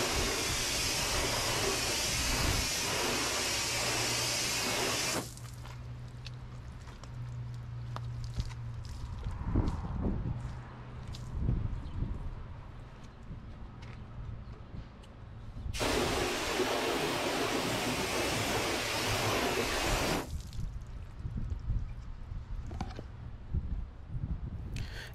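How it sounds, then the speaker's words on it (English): Water spray rinses wheel cleaner off a car wheel, a broad steady hiss in two loud bursts of about five seconds each, separated by quieter handling noises. "we'll wipe it in, rinse it, wash it off, and take a look"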